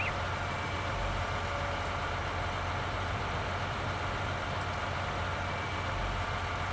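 A tractor idles in the Farming Simulator video game, a steady low engine drone that holds evenly throughout with no talk over it.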